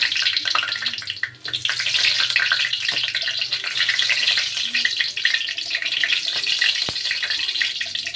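Pork and banana heart fry in oil for a sautéed banana heart dish, giving a loud, steady close sizzle with crackling splatter pops throughout and a brief voice underneath.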